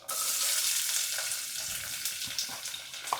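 Chopped onion with a few cumin seeds frying in hot oil in a pan, a steady loud hiss and crackle that starts abruptly and holds for a few seconds with small pops.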